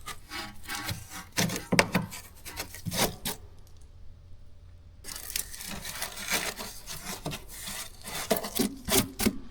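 Rust is sanded off a car underbody down to bare metal, giving harsh, irregular scraping and grinding strokes heard up close, with a brief quieter lull before the abrasion resumes, no talk.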